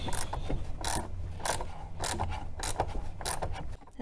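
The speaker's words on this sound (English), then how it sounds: "the more I unscrew this, the more my wrench is scraping against the top here" A wrench ratchets in quick, repeated clicking bursts while loosening a suspension nut on a BMW E24 635CSi Euro-spec coupe. The clicks are close and fairly steady, with no talking.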